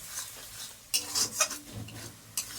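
Spice paste loosened with water is stirred and fried in a pan for a light chicken curry. Quiet scraping strokes come in short bursts over a faint sizzle, with no voices.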